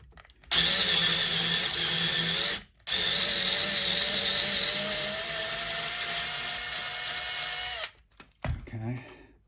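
Power drill driving long screws into a Telecaster-style guitar during a refret and setup, two sustained whining runs, the second long and steady, broken by a short pause, with brief handling noise and a voice at the end.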